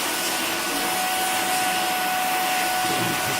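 A vacuum cleaner hoovers a cat, its loud, steady motor drone running unbroken from start to finish with no pauses.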